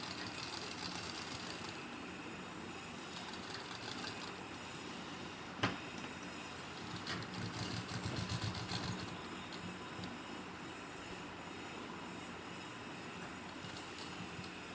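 A sewing machine stitches a pocket onto a ladies' kurti, running in a quiet, continuous rapid clatter that surges briefly louder partway through, with one sharp click near the middle.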